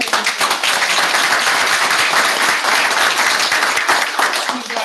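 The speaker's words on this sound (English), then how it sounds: "an applause for that" A room full of people at a talk on renewable energy claps steadily in dense, sustained applause, loud and even throughout.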